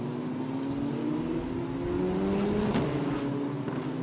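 F3 race cars from the 2021 Asian Championship circuit at reduced pace behind a safety car, a steady, close engine drone with a slowly rising pitch and no gaps.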